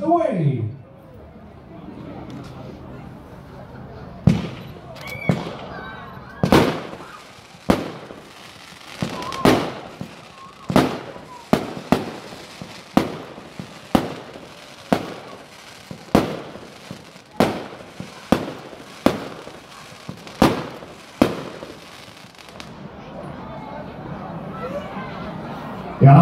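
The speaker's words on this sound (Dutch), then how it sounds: "dat is weer een cake van 16 schoten" Bombs Away firework cake of 16 shots fired at an outdoor fireworks demonstration, giving a steady run of sharp, loud bursts at roughly one-second intervals, each with a crackling tail, over background crowd murmur.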